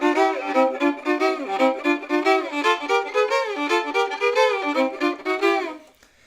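A fiddle plays a boogie woogie shuffle slide: rhythmic bowed double stops with pitches that slide upward, close and solo, before the phrase fades out at the end.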